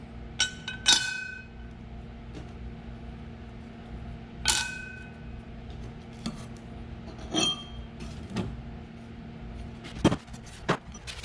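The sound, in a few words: handling and cleaning Bush Hog clutch plates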